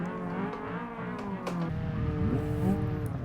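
A car in the BeamNG driving game approaches with a steady engine drone whose tones climb and shift as it revs, heard continuously at moderate volume.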